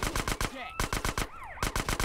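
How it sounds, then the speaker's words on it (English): Police open fire in GTA: San Andreas with rapid automatic bursts that repeat in a steady rhythm, loud and close, while a wailing siren sweeps up and down beneath them. "Don't shoot me, officer."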